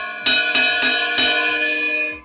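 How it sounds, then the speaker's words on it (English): A cheap 20-inch ride cymbal bought from Temu, struck four times in a slow, uneven rhythm, each hit a bright, clangy metallic ring with a long sustained shimmer that decays after the last stroke, close and loud with no talking. "So this is the ride cymbal."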